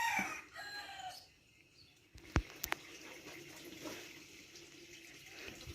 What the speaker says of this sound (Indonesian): Ada burung di sini.